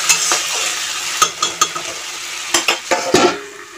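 King crab from the Sundarbans stir-fried in spice masala in a village kitchen: a steady sizzle with scraping spatula strokes and sharp metallic clinks against the pot, no voices.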